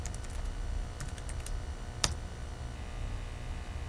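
Light, quick typing on a computer keyboard: a short burst of soft key clicks, a firmer single tap, then quiet under a low steady background hum.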